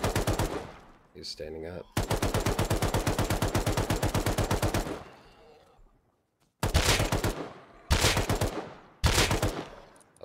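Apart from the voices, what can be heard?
LR rifle gunfire in the video game Rust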